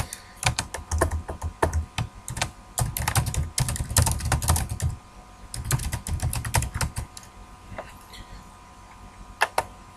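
Fast, uneven keystrokes on a computer keyboard while a chart title is typed into Excel, close and clear, arriving in bursts with short pauses and a few isolated taps near the end.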